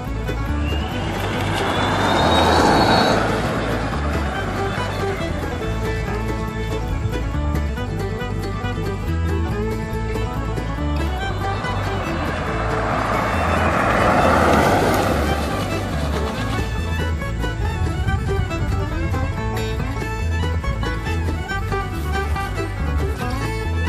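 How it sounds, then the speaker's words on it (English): A converted golf cart on a test drive, a steady motor and road rumble with two broad swells as it passes or accelerates, continuous throughout, with a voice talking over it at points. "So I had a successful test drive with the golf cart."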